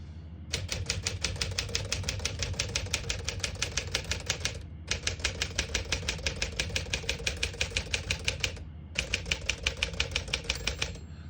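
Rapid, even clacking of keys on a 1957 Smith-Corona Silent-Super manual portable typewriter in long bursts, separated by two brief pauses, close and crisp over a low background hum.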